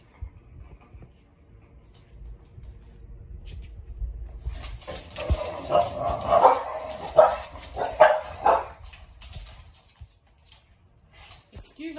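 Two young dogs react to bubbles for the first time indoors. After a quiet start, bursts of barks, yips and whimpers rise close by, then fade to scattered sounds.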